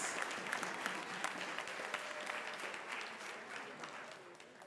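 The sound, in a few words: audience applause at end of debate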